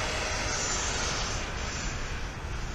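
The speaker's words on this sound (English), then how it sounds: "This jet is the most beastly sounding jet that I think out of all the jets." An E-flite F/A-18 Legacy Hornet Blue Angels RC jet with an 80mm ducted fan roars loud and steady, a broad continuous rushing whine close by.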